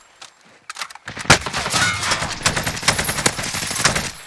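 Rapid bursts of gunfire from a Call of Duty Warzone match crackle close and loud, starting with a few scattered shots and then running into a sustained, jittery volley of automatic fire.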